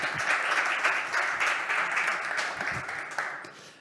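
An audience at a startup demo day gives a team a broad, sustained round of applause, a dense even roar of many hands that tapers slightly near the end.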